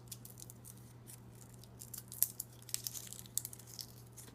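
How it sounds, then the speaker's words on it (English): Cracked papery skin is peeled off a garlic clove in a few faint, close crinkling and tearing rustles over a low steady hum. "You see it kind of cracks it a little bit, and you just peel that off."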